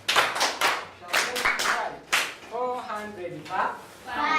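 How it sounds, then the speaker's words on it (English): Classroom applause for a pupil who wrote on the blackboard: a burst of hand clapping from several people, fairly close and steady, with voices mixing in toward the end. "Yes, you clap for her."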